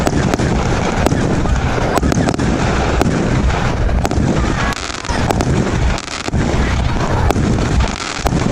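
A 16-shot firework cake fires in a dense, continuous barrage, with sharp cracks and booms layered over a rumbling outdoor din. The explosions come close together and loud throughout, with a few brief dips.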